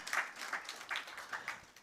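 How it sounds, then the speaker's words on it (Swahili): An audience at a tournament draw event gives a brief round of applause, scattered claps that are faint and distant, heard without talk. "Let's appreciate that. Wapi makofi tafadhali."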